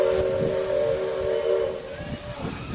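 A train whistle sounds as the train sets off, a steady tonal blast held for about two seconds over hissing and rumbling, then cutting off as low knocking and rolling noise carry on.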